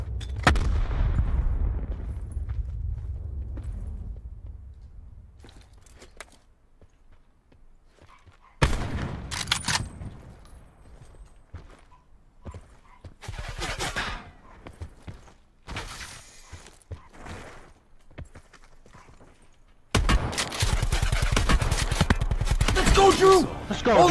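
Gunfire in the Call of Duty Blackout battle royale, heard as bursts of sharp shots separated by quieter stretches, with a dense loud volley at the end.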